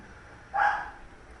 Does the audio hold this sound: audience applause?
no